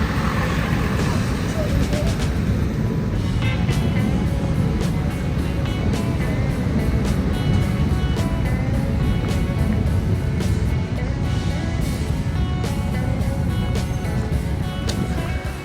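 Cars passing on a London street near the Charing Cross rail bridge, a continuous loud traffic roar with engine rumble and passing vehicles throughout.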